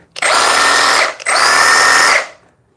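Cordless reciprocating saw run at its middle speed setting, two loud sustained buzzing bursts of about a second each with a brief dip between, very close.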